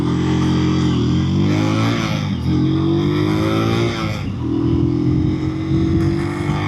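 A Superlight chopper motorcycle drones on the road while a car drives past nearby. The engine hum rises and falls through gear changes, with a loud, constant rumble throughout.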